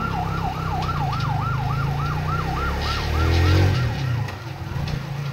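An ambulance siren wails in a steady rising-and-falling pattern, loud and close, over the rumble of a passing vehicle.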